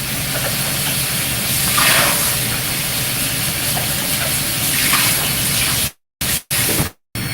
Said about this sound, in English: let me rinse this out